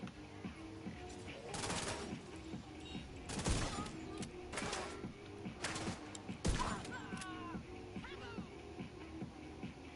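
Pistol shots from Tom Clancy's Division 2 in realism mode, several sharp separate cracks spaced irregularly across the stretch, over a steady game background with someone talking throughout.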